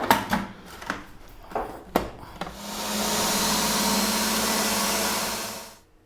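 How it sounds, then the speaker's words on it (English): Ingredients for a green hariyali chicken marinade are clattered into a blender, then the motor runs in a loud, steady whir for about three seconds before winding down. "we're going to get everything apart from the chicken into my blender and make a paste"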